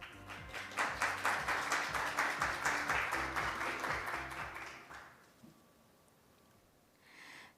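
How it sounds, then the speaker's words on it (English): Audience applause welcoming a speaker at a Korean chapter event: a steady, dense wash of many hands clapping for about five seconds, then fading out into room quiet with a brief murmur near the end. "Please welcome him with a warm round of applause."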